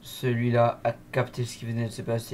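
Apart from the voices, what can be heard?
No everyday noises stand out.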